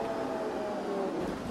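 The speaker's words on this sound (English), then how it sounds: "I don't want to get stopped by this train." A train rolls past in the OMSI 2 Bus Simulator video game, a steady, loud mechanical rumble with a low drone that holds evenly throughout.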